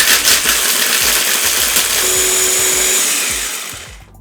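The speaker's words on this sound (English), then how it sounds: "This blender, as I say, it's really quite strong." A strong blender crushes ice for a frozen strawberry margarita, a loud grinding whir with rhythmic clattering thumps of ice against the jar, then winds down and stops at the end.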